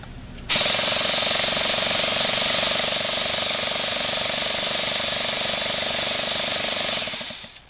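An engine is primed during a jato service so lubricant circulates through it. A loud, steady mechanical drone and rattle starts abruptly, holds evenly for about seven seconds, then winds down at the end.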